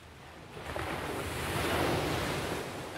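Broad rushing water waves from the video game Else Heart.Break(), a steady surf-like wash that swells slightly and stays loud throughout with no voices.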